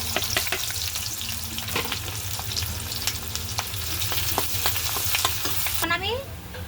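An egg fries in a pan with onion and green chili, giving a continuous close sizzle with scraping stirs and clinks over it. Near the end the hiss briefly dips and rises again. No one speaks.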